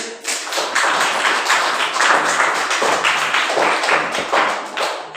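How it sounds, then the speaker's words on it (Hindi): Children in a classroom clap together in a dense, steady burst of hand claps lasting several seconds, close and fairly loud, with no talking over it. "ताली बजाओ इसके लिए"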